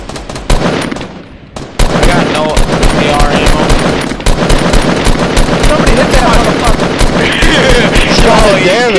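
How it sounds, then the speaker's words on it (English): Sustained automatic gunfire in a Fortnite squad match on PS4, loud and close: long, rapid bursts from several weapons overlap almost continuously, with only one brief lull early on before the shooting resumes. "that's the most bullets I've seen sprayed at one team in my life"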